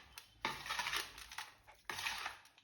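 Lemon rice is served from a pot, two bursts of close scraping and clinking of a spoon against metal, separated by a brief pause, with no voices.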